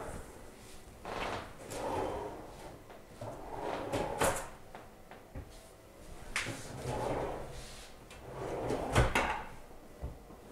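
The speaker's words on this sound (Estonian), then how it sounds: "Vaatame sahtlid ka üle." Kitchen drawers in an apartment opened and closed several times, each a soft wooden slide and bump, moderately close in a quiet room.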